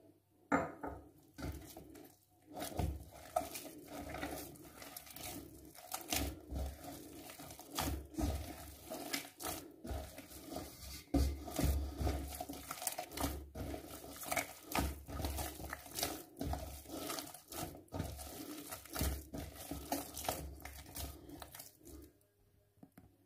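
Soft dough being kneaded by hand on a kitchen counter as butter is worked into sandwich dough: repeated squishing, slapping and pressing thuds in an uneven rhythm, close and moderately loud, with occasional clinks from nearby utensils.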